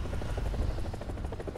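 An AH-1G Cobra gunship in War Thunder flies with a steady, loud rotor thump that beats rapidly and evenly over a low engine rumble, with no talk.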